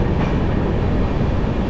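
Train rumble heard from inside a carriage passing Kollam Junction, a continuous loud, steady roar with faint wheel clatter and no voices.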